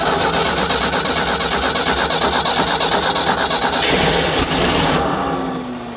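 An old 1990s tracked auger machine, parked for over ten years, cranks and its small engine roars loudly and steadily, then winds down and fades at the end.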